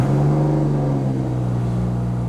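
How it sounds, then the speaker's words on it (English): A BMW engine from the N54, N55, B58, S55 or S63 family runs at a steady, close idle for the whole stretch, with a low even drone and no other sounds. "I'm gonna go ahead and turn on the car and show you guys something else."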